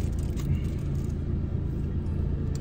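Low engine rumble and road noise inside a moving car, steady and close throughout the brief stretch.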